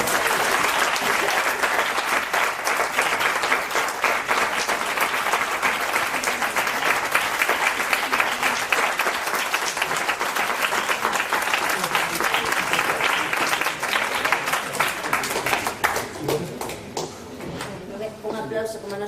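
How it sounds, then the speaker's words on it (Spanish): A live audience at an evening show claps warmly and continuously for about fifteen seconds before the applause thins out and fades, close and dense with no clear speech. "un aplauso para los tres"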